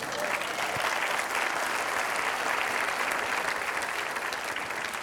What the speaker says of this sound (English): Javier deserves a second round of applause